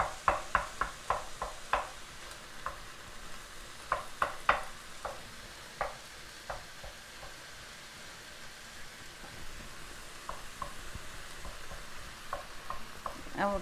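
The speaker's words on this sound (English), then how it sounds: "So I'm kind of chopping it up with the wooden spatula." Meat sizzles in a pan while a wooden spatula chops and stirs it for a one-pan mac and beans, giving sharp, irregular clacks and scrapes in quick bursts over a steady low frying hiss, close and alone.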